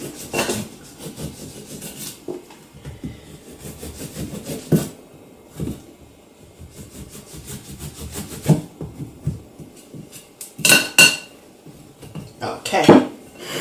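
A knife scrapes and saws through the top of a coffee and walnut cake, making irregular rasping strokes and a few sharp clinks of metal against a plate, close and fairly loud.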